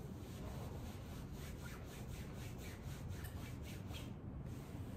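Coat fabric rustles in a faint series of rhythmic rubbing swishes, like cloth brushed back and forth several times. Quiet and alone, with no talking.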